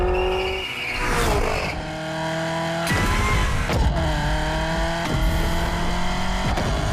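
Genti Automobile Accolone driven hard in The Crew Motorfest, a loud, close engine revving and climbing through gears with repeated sharp shifts and bursts of tire squeal, alone with no voices.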